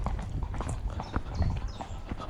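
Horse hooves clip-clopping steadily on a road, a run of close, distinct hoofbeats at an even walking rhythm over low outdoor rumble, with no talking.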